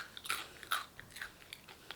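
Close, quiet crunching of dry Halloween cereal being bitten and chewed, several crisp crackles in an irregular rhythm with no speech.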